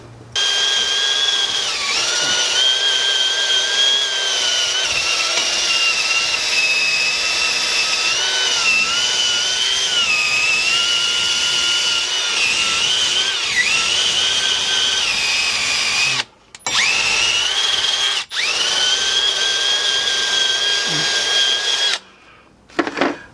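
Power tool cleaning a rusty edge on the front brake hub of a 2008-2012 Chevrolet Silverado 1500, a loud close whine running almost continuously, its pitch wavering under load with two brief pauses near the end.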